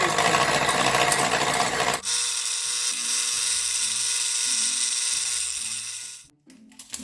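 An electric hand mixer beats eggs and sugar for a lemon yogurt cake, a loud steady whir throughout with rhythmic pitch dips as the beaters move through the batter, briefly cutting out near the end.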